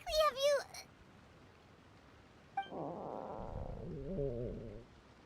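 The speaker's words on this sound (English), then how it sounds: "That would be my stomach growling." A character's stomach growling in a video game, a low rumbling gurgle lasting a couple of seconds after a short burst of high-pitched voice.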